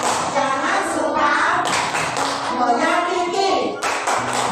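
Children join in a rhythmic group clap-chant against bullying, clapping in patterned bursts while voices chant along in a classroom setting.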